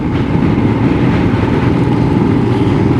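A Royal Enfield motorcycle engine runs steadily at low revs in fourth gear at about 30, a constant close-up rumble with no voices over it.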